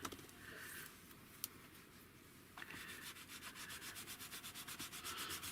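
A baby wipe rubs back a painted surface in quick, rhythmic strokes that come faintly and steadily, with a soft scuffing texture and one brief tap partway through.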